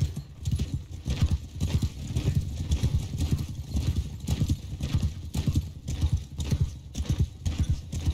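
Horses gallop in the Mount & Blade II Bannerlord video game, a rapid, loud drumming of hooves that pounds steadily throughout with occasional whinnies mixed in.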